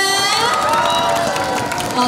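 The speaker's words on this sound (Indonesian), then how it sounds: "Sekali lagi dong tepuk tangannya mana?" A TV studio audience during a health talk show breaks into loud applause mixed with cheering and shouting voices, a sustained dense roar across the whole stretch.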